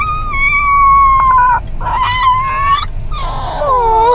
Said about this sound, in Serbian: Evo prvo zavijanje.